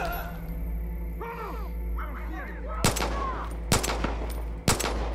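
Gunfire in the video game Far Cry 5, with three sharp loud shots spaced about a second apart standing out over steady game ambience and chirping birdlike calls.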